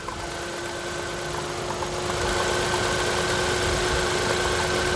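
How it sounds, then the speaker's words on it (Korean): A small light car's engine idles steadily with a low rumble and a faint constant whine, no knocking, growing slightly louder partway through, with no voices. "시동을 켜고 자, 엔진을 들어보면"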